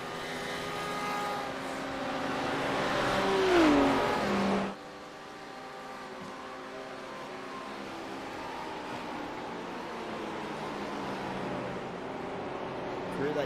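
GT3 race cars in a sim racing game roar past, a rising engine whine building to a loud peak before cutting off abruptly, then a steadier, quieter engine drone carrying on through the rest of the lap.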